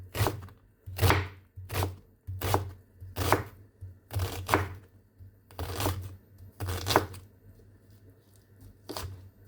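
A knife finely chopping ingredients for meatball soup on a cutting board makes about a dozen crisp, close chops in an uneven rhythm, with brief pauses between strokes.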